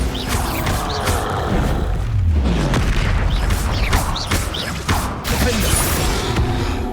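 Bombarda spell blasts in the Hogwarts Legacy video game, heavy booming explosions and crashes layered over continuous combat effects and whooshes, loud and dense throughout.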